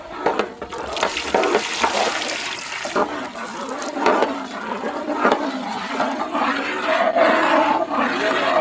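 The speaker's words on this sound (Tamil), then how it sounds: "மசாலாவுக்கு தகுந்த தண்ணி," Water poured into a pan of butter-cooked masala with stone-ground tomato and onion, a steady rushing, bubbling wash of liquid running continuously at close range with no talk.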